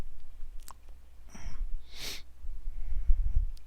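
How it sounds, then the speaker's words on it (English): Someone sniffles a few times at a computer, giving short, breathy nasal sniffs and snorts that are close but fairly quiet, with no talking. "Sorry about the sniffling."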